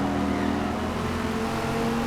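Racing car engine in Forza Motorsport holding a steady, loud drone at high revs, continuous and close with no speech over it.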